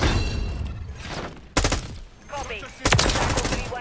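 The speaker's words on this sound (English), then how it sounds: "Damn, that was a lot of bullets." Call of Duty gunfire in rapid, loud bursts: sharp volleys of shots, with strong cracks at about 1.6 and 2.8 seconds and a quieter gap between, plus some faint voices.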